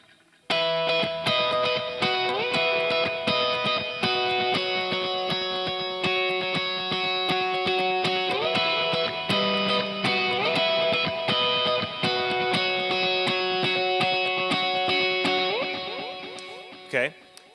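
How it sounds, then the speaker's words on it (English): Electric guitar played through a direct worship rig with dual delay in stereo, ringing chords and melodic notes trailing repeating echoes in a continuous wash for over fifteen seconds, then fading out at the end. "Now I just want to give you a few tiny little examples of what my electric guitar sounds like through the system."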